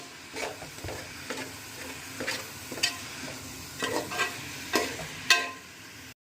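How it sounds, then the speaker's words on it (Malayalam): Green chili, ginger and garlic paste stirred in a pan for a chicken gravy, with a soft frying sizzle under a series of distinct scraping strokes at an irregular pace, no voices. "പച്ചമുളകും ഇഞ്ചിയും വെളുത്തുള്ളിയും ഇട്ട് പേസ്റ്റ് ഇട്ട് നല്ലപോലെ മിക്സ് ചെയ്യാൻ പോവാണ്"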